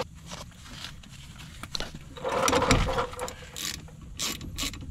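A ratchet works a brake bracket bolt on a Honda Civic during a front brake job, giving quiet, rapid clicking bursts with a few sharper metallic clunks, close by and without talk.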